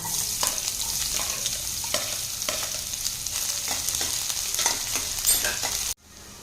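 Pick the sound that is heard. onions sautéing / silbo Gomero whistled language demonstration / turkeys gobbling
onions sautéing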